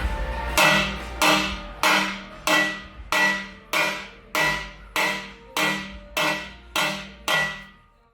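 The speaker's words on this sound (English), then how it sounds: "make a careful indentation on the actual header with a hammer" A ball peen hammer strikes a steel long-tube exhaust header on a 1978 Dodge Power Wagon, about a dozen evenly spaced metallic taps, each ringing briefly and fading before the next, close up with nothing else heard.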